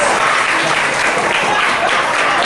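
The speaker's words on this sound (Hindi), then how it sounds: "तो जोरदार पहले दोनों के लिए तालियां" A dense, loud burst of applause from an audience cheering for Salim and Shabana, steady and continuous throughout with no gaps.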